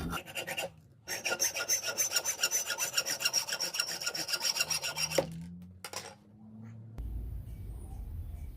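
A homemade pyrography pen being made by cutting material for it, a loud, fast, even rasping stroke repeated many times up close for about four seconds, then a few short scrapes and quieter handling noise.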